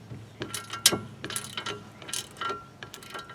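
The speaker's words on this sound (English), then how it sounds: "Got an 18mm socket. Hopefully we can get this guy loose without too much trouble." Ratchet wrench with an 18mm socket working a nut loose during inner and outer tie rod replacement on a 2005 Chevy Malibu, giving bursts of close, sharp clicking with uneven pauses between strokes.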